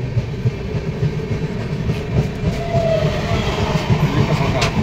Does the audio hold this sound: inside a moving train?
yes